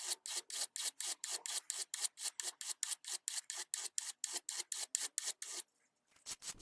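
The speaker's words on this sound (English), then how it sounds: "all I have to do is file the nail down a little bit with this file" Steady back-and-forth rasping of a metal file on a nail, about two dozen quick even strokes, close and loud, then a short pause.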